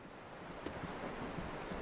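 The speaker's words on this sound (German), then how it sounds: "Das Meer." Sea waves wash steadily in the video game Tales of Berseria, a soft, continuous surf with a faint breathy rush, no voices over it.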